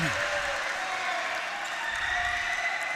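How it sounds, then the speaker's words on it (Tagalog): An animated crowd at a Junior MPBL youth basketball game in Antipolo claps and cheers as a broad, steady roar while a commentator talks over it. "Very animated Antipolo crowd we have here."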